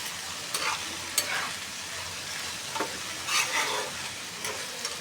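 Onion and bitter gourd frying with a little turmeric, a quiet continuous sizzle in the pan punctuated by occasional scraping stirs, with no one talking.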